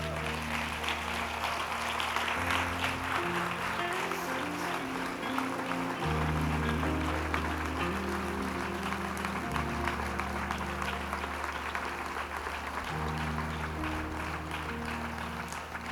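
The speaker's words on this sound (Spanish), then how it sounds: "dale un fuerte aplauso a Dios." A church congregation claps steadily throughout, a soft, sustained patter of many hands over sustained low musical tones from keyboard or organ.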